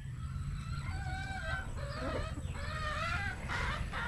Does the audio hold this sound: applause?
no